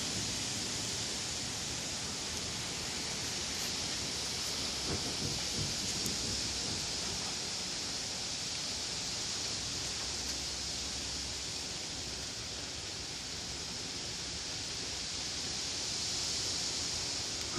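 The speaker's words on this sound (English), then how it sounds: "Some gusty winds." Gusty wind buffets an outdoor microphone, a steady broad roaring rush with slight swells throughout.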